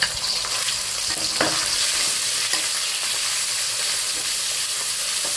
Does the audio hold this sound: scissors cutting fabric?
no